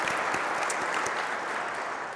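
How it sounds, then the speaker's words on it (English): Keynote audience applause at a cloud-native tech conference, a broad, even roar of many hands clapping throughout a large hall. "So a hand of applause for these folks."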